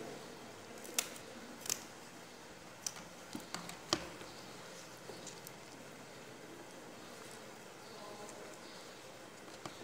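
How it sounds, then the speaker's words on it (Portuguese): Scissors cut through the gill cover of a bony fish during a school lab dissection. A few sharp, close snips come in the first seconds, then near-quiet room tone. "Vamos ter que usar a tesoura."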